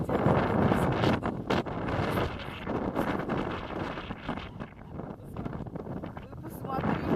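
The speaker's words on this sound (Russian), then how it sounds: "Ветер 21 метров." Strong seaside wind blows across a beach, roaring and buffeting the microphone in gusts, with a voice partly masked beneath it.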